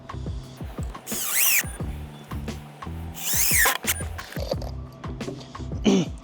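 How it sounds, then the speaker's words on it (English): Power drill driving timber screws through a metal corner bracket into timber sleepers, two loud whirring bursts with rising pitch, surrounded by clicks and handling knocks, close up and without talk. "safely secure the timber screws through the bracket, straight into your sleepers"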